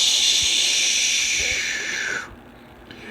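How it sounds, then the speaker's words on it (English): Steam hissing loudly from a locomotive's burst safety valve, a dense continuous rush that holds steady for about two seconds and then cuts off abruptly, leaving a quiet tail. "He was in a cloud of steam and going slower and slower."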